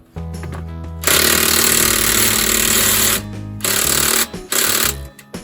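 Air impact gun rattling bolts loose on a 5.7L Hemi engine's cylinder head in a garage, several loud hammering bursts of about a second or two each separated by brief pauses, close up with no talk.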